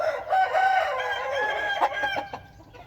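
A Thai fighting rooster in a pen crows once, close and loud, and the crow trails off into a few short clucks.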